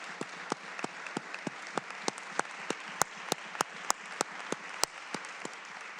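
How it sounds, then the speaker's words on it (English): A room of legislators in the Illinois House chamber applauds the House leader, a steady wash of clapping broken by sharp individual claps spread across the whole stretch, with no voices over it. "give her a round of applause"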